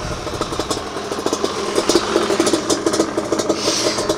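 A freshly built Yamaha Banshee quad with a 4mm stroker engine idles close by, a loud, choppy two-stroke putter with rapid irregular pulses and clattery mechanical noise.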